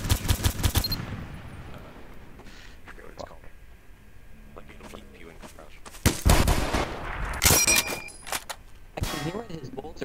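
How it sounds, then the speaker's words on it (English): Gunfire in a World War II video game, with loud sharp shots and metallic clangs in clusters at the start and again in the second half, alongside talking. "he's repeatedly shooting at us"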